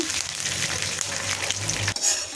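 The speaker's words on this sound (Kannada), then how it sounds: "ಇವೆಲ್ಲವೂ ಕೆಂಪಗಾಗೋವರೆಗೂ ಫ್ರೈ ಮಾಡ್ಕೋಬೇಕು" A brief burst of red chillies and curry leaves sizzling in hot oil as a tempering, crackling steadily with a low rumble underneath, then a sharp shift near the end.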